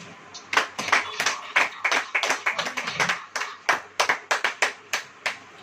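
A church congregation claps hands in unison at a sermon, a steady run of sharp, close claps in a quick rhythm with no voices over it.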